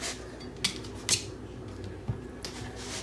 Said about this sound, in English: Gonna run a knife through these, cut them in half.